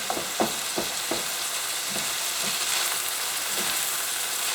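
A paella pan sizzling on high heat as alcohol cooks off, a steady bright hiss, close and moderate, opening with a few quick taps and scrapes from mixing and later softer clicks, no one talking.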